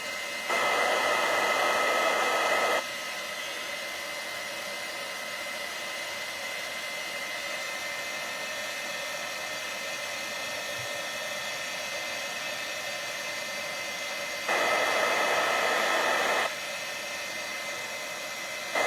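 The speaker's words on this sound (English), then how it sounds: "now I'm going to get out our heat tool, and we're just going to heat set the words" Handheld heat tool blowing a steady hiss while heat-setting embossing powder on a greeting card, with a louder whooshing burst at the start and another near the end, close and continuous with no talking.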